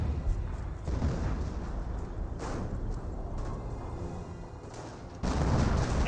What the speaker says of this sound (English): And we got some 25-pounder barrages over here.